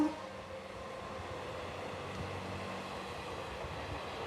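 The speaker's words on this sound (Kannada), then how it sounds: "ಟ್ರೈನ್ ಹೋಗೋದು ನೋಡ್ತಾರೆ" A train rolls past at a steady, moderate distance, a low continuous rumble of wheels and carriages holding even throughout, with no voices over it.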